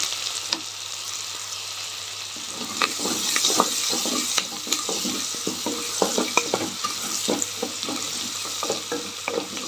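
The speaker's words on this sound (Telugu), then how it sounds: "ఆనియన్ వేసుకున్నా ఆనియన్ సన్నగా కట్ చేసుకున్న ఒక ఆనియను" Thinly sliced onion frying in a pan, a steady close sizzle broken by scraping stirs and small crackles, with no talk.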